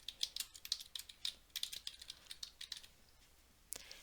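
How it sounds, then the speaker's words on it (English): Quick, light clicking of a computer keyboard as a name is typed in Word, irregular bursts of keystrokes close up with a short pause before a final couple of taps. "Type in the name."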